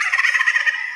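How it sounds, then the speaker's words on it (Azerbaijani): A turkey gobbles once, a rapid, loud, nearby warbling rattle of pulsing notes lasting about a second, heard alone. "yeməkdən baboşa oxşayan hinduşka"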